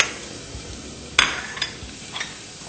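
Onion and garlic sautéing in a little oil in a pan, a low steady sizzle with a sharp utensil clink against the pan and a few lighter stirring scrapes.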